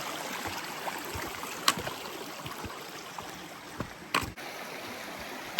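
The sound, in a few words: creek water flowing during a hike crossing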